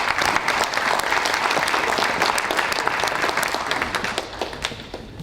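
An audience applauds to welcome the mayor of Montcoutan at the presentation of a local cycling tour's 12th edition, with dense, steady clapping that stays loud throughout and thins slightly just before the end.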